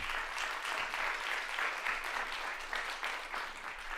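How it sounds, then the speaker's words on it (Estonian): A conference audience applauds an award recipient at an environmental education event, producing a soft, continuous patter of many hands heard from some distance, steady and even, with no voices over it. "Teeme Kennetile aplausi."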